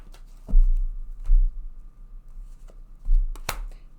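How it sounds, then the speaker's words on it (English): Tarot cards being shuffled by hand, a few soft riffling bursts and taps spaced irregularly, close and quiet with no talk. "Let's take one more card for them."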